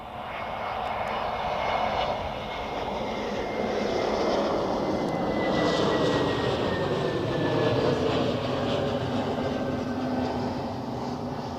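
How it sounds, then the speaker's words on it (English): A Swiss Airbus A320neo landing at Zurich inbound from Porto, a loud, continuous jet roar with a gliding engine whine, building slightly as it passes close by and staying strong to the end, with no talk. "So next one, another A320, this time in Neo of Swiss,"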